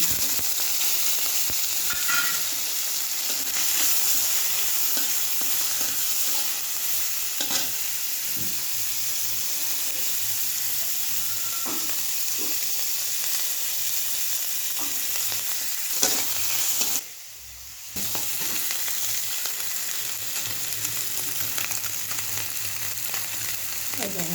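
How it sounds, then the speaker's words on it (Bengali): Prawns fry lightly in a pan with a continuous, fairly loud hissing sizzle and occasional stirring taps, broken by one short quiet gap partway through before the sizzle resumes. "আমি চিংড়ি মাছটা খুব হালকা করে ভাজবো, বেশি কড়া করে ভাজবো না।"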